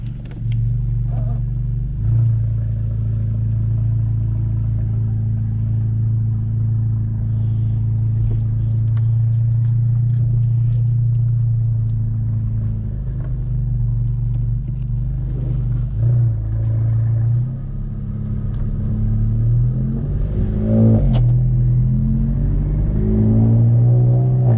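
A Volkswagen MK7 GTI with a Mamba GTX3071R turbo rumbles steadily while driving, with the revs rising and falling as it accelerates through the gears, close and continuous.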